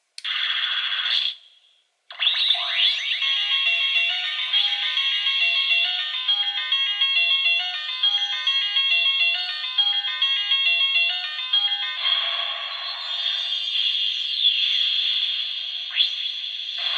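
A Sailor Moon Moon Stick Proplica wand plays its star function, a bright electronic chime melody with a short opening tone, a brief gap, then a sustained tinkling tune lasting about fifteen seconds.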